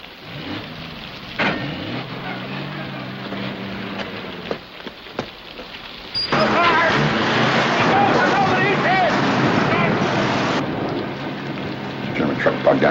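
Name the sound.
rain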